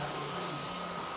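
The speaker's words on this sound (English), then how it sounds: "to speed it up, you can hit it with that blow dryer" A blow dryer runs at a steady, loud whirring roar while drying clay-styled hair, continuous with no breaks and no talk.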